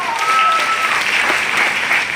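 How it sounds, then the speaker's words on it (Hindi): Dense applause from an audience at an event fills the clip, steady and fairly loud, with no talk over it. "उनके लिए बात जोरदार ताली होना चाहिए"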